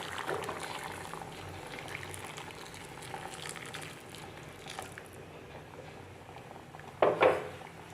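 Hot water added to a pan of fried food and left to boil: a steady bubbling hiss throughout, with a brief louder splash of pouring near the end.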